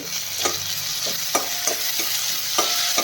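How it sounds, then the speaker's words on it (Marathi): Ginger-garlic paste sizzles steadily in a hot pan while a spatula taps and scrapes at a regular rhythm, close and fairly loud. "त्यामध्ये थोडस आलं लसूण पेस्ट टाकूया ती सुद्धा परतून घ्यायची"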